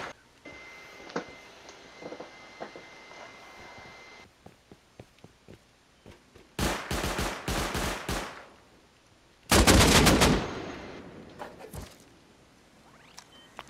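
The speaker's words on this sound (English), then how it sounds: "they're shooting you straight as you go in the breach" Turret gunfire in a video game raid at a breach, a rapid patter of light shots followed by two loud sustained bursts of automatic fire with silences between.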